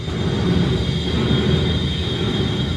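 On the SpaceX Starship launch tower, a carriage roller chain that has jammed and may have snapped shakes the structure with a loud, continuous grinding rumble and a steady high metallic whine.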